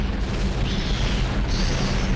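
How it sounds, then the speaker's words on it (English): Scorpion missile launcher blasts in the Nintendo 64 shooter Turok 2, fired at giant spiders: a dense, continuous roar of explosions, loud and booming throughout with no pauses. "Did I ever use a Scorpion missile launcher on the giant spiders?"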